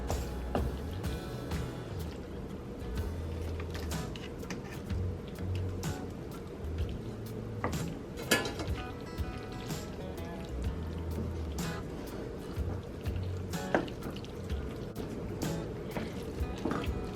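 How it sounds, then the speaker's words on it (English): Cooked pasta stirred into melted cheese in a crockpot, giving soft, wet squelching and sticky stirring sounds that continue steadily at close range, with no speech. "Then we're going to take our pasta and add that into our melted cheese."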